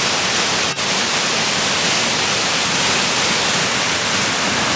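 Water rushes steadily through a small dam outlet beneath a bridge, a loud constant broadband roar that fills the whole stretch without a break and with no voices.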